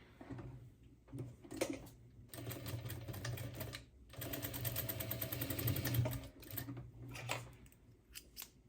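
A sewing machine stitches a seam on a silk pillowcase in quick rattling runs, starting and stopping several times with short pauses, close and fairly quiet.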